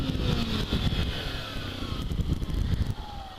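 A 2013 Kawasaki Ninja 300 motorcycle revving up for a sitdown wheelie, loud close engine roar with rising pitch, wind buffeting over it, then easing off near the end.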